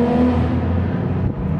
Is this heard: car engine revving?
yes